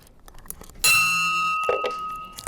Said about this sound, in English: we will end our Rotary meeting with the ringing of the bell